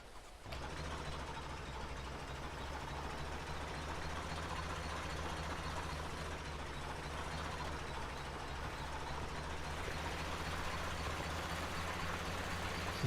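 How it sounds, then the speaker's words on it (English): A tractor engine idles steadily in the GTA V video game, a constant low rumble held at an even level throughout with no talk. "I think it's a Stanley at the front on this tractor."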